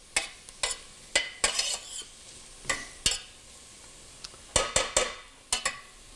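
Onions sautéing in oil in a pan for mushroom risotto, with a continuous close sizzle broken by a series of sharp scraping clicks as the spoon stirs, and no talking.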